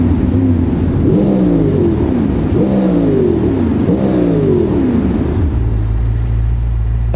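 4.4 racing engine in BeamNG revving hard in three rising sweeps, each falling back before the next, then settling into a deep steady idle; loud and close, no speech.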